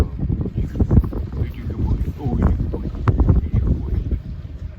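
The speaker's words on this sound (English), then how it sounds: "it's windy, really windy out here" Strong wind gusts across the docks on the Oregon coast, a loud, continuous buffeting roar that swells and eases throughout, with no clear voices.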